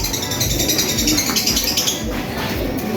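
Pigeons in a loft coo and rustle close by in a steady, overlapping murmur of soft cooing calls.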